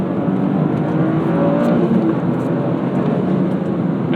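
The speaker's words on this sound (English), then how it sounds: "The turbo lag, the whoosh noises, the blow off." A Toyota GR Corolla engine roars steadily at close range, its turbo whooshing under a sustained rush of air, with blow-off valve noise and no talk.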